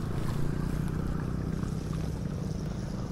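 A large boat's engine drones steadily on a river, a continuous low rumble with wind and water wash over it.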